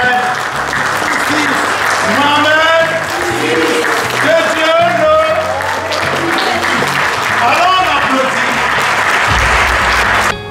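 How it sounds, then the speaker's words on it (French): A large crowd applauds the king of Morocco at an awards ceremony, loud sustained clapping that fills the hall, with voices calling out and talking over it. "Et je voudrais que vous vous levez pour applaudir Sa Majesté, le roi Mohamed."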